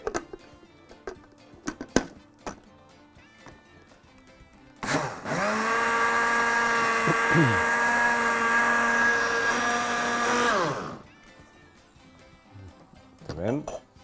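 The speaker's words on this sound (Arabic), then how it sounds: "نقفل الخلاط." An electric blender whirs steadily for about six seconds, mixing apple juice with whipping cream, sugar and cinnamon, starting and stopping abruptly, with a person talking and kitchen clatter before and after.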